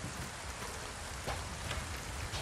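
Steady rain falls in the video game Resident Evil 4 Remake, a dense, even hiss of drops on surfaces with occasional slightly louder spatters, continuous and fairly quiet with no voices.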